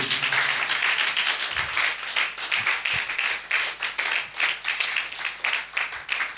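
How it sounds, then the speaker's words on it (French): Church congregation applauding during a worship service, a dense, steady wash of clapping from many hands that swells and pulses, with a few faint low voices and thumps underneath. "j'aimerais que tu acclames pour le Dieu qui a donné sa vie pour nous"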